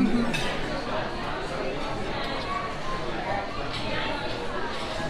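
Glasses clink together in a dinner toast at a steakhouse restaurant, a brief light chime over steady dining-room chatter and close voices talking.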